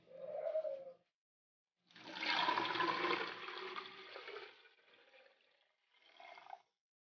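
Water is poured from a recycled plastic bottle while growing hydroponic lettuce: a quiet, sustained splashing pour of a few seconds that tapers off, framed by brief soft sounds before and after.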